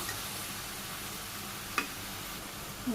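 Vegetables sautéing in a pan for a simple Bangladeshi village-style dish, a soft, steady, close sizzle with one brief clink partway through.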